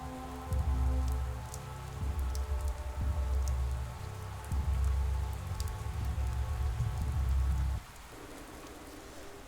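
Rain falling in the video game Pathologic 3, a steady patter on surfaces over a low rumbling game ambience that drops away near the end, leaving the rain quieter.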